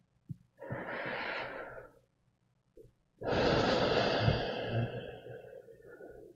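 Two long, deep breaths close to the microphone, a slow airy inhale followed after a pause by a longer, fuller exhale, heard alone without talk.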